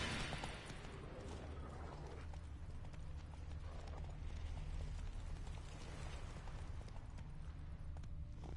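Roach the horse galloping in The Witcher, a dense, fast clip-clop of hooves at steady rhythm, loud and close, over a constant low game ambience with no talk.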